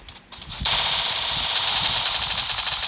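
Machine gun fire from a video game starts after a short lead-in and then runs as a loud, continuous rapid burst of shots.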